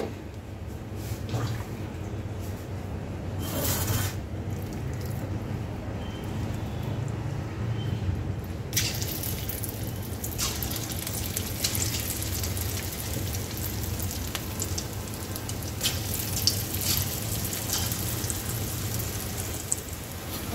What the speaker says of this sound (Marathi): मी आता दुसरा बॅच तळून घेते।